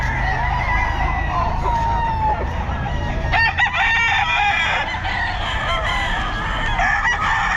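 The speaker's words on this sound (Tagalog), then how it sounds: "daming manok" Chickens and roosters at a Friday pet market in Bocaue, crowing and clucking loudly and close, several birds overlapping over busy market noise.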